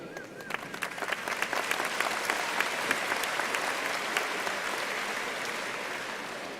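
Loud, dense audience applause fills a ceremony hall, many hands clapping steadily and evenly throughout without a break.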